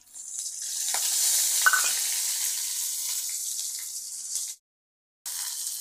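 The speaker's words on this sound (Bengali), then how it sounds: "আমি যে মশলাটা বেটে নিলাম সেই মশলাটা দিয়ে দিচ্ছি" Ground spice paste hits hot oil with bay leaf and whole cumin in a pan, giving a loud, close sizzle and frying hiss that holds for several seconds, then breaks off briefly before resuming.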